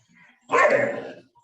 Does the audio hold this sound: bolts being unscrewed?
no